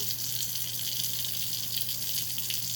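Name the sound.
washing hands with soap under running tap water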